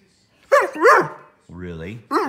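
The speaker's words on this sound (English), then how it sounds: "You can talk, but don't bark." Close Pudelpointer dog vocalizations: a couple of quick barks, then a longer whining, howl-like moan, followed by another bark.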